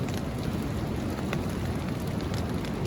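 Steady rain patters on a camping hammock shelter in Rhode Island amid strong winds, a dense continuous hiss of drops close by with no talking.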